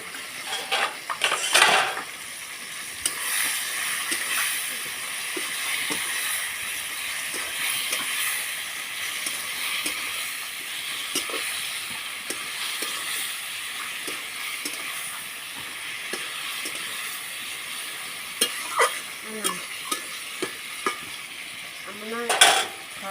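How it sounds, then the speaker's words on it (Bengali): Ground poppy seed paste stirred in a pan, giving a soft sizzle with repeated scraping strokes and light clinks of a utensil on metal, close and fairly quiet. "এবার দিয়ে দেবো বেটে রাখা পোস্ত।"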